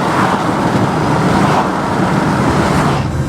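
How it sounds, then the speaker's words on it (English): A 2017 Mazda CX-5 GT driving at night through heavy city traffic in historic Charleston, a steady loud road roar and engine hum from inside the cabin without pauses or talk. "as we're driving down this historic part of Charleston with all this traffic"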